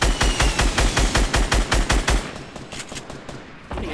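Rapid automatic gunfire bursts loud and close in a Fortnite match, a steady rattle of about a dozen evenly spaced shots that then thins into scattered, fainter fire.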